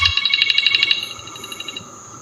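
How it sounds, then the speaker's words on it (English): A mobile phone rings loudly and close by with a rapid, repeating electronic tone pattern that pulses in bursts, then continues a little softer. "Answer your phone, bro."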